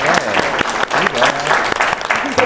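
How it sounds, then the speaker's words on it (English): Audience applause for a panel of speakers at a vocations discussion, dense, steady clapping from a crowd with a few voices and cheers mixed in throughout. "Let's do a round of applause for our panelists"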